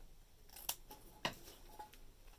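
Scissors trim a piece of plaid ribbon for a bell swag decoration with three or four crisp, quiet snips. The cuts come close together and sound near, with no voice over them.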